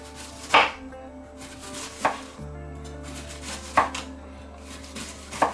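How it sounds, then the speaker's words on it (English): A knife slices vegetables finely for a slaw on a cutting board, making four well-spaced, sharp chops over a low background hum. "So again, very finely sliced into manageable mouth pieces."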